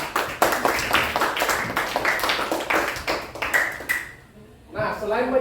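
A classroom of students claps together at the teacher's prompt, a burst of quick, overlapping claps for about four seconds before it stops and a voice begins speaking.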